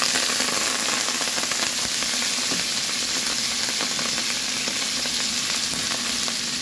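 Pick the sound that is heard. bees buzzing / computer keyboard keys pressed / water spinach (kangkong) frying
water spinach (kangkong) frying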